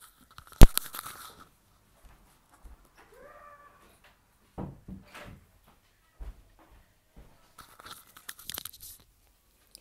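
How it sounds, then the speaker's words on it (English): A house door is shut with one sharp, close knock at the start, followed by quiet scattered rustles and small knocks in a still room. "my dog's just arrived, so the door's open. Let me just shut that for a minute."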